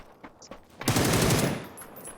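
A rapid burst of automatic gunfire in PUBG, about half a second of loud, close, rattling shots following a few faint distant pops, then fading into quiet background.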